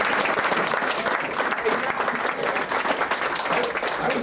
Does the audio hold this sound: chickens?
no